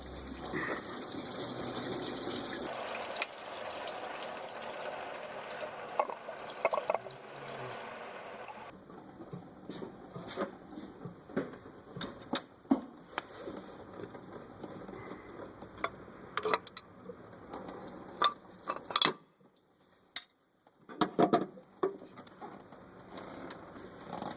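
Coolant gushing and draining from the engine of a 2007 Suzuki XL-7 3.6L V6 after the water pump is pulled, a faint steady trickle and splatter with some light clinks.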